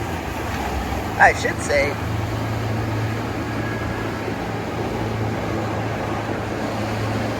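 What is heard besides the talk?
motorboat speeding past at full throttle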